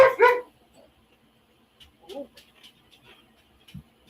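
Dogs at home let out a sharp, loud bark, then softer scattered yips and whimpers at a moderate distance, with people's voices nearby.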